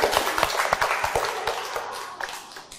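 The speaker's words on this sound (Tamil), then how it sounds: "நல்ல கைத்தட்டுங்கப்பா" A classroom group claps for a child's correct answer in a number game: a quick, uneven burst of many hand claps, close and fairly loud, tapering off toward the end.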